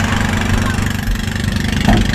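A boat engine idling at a steady, loud, even rumble, with a slight change in tone near the end.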